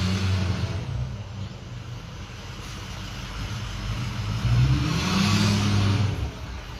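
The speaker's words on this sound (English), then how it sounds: "It's a big truck." A big diesel truck rumbles past outside at a moderate distance, its engine swelling louder toward the end as it slowly accelerates away, with no talking.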